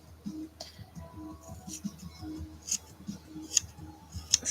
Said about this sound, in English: now I've got these scissors, it'll be a lot quicker to, prep some things and give them a bit of a trim